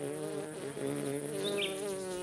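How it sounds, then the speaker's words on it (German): A cartoon bee buzzes steadily and fairly close in an outdoor scene, giving a continuous wavering drone for about two seconds, with no voices. "Eine Biene!"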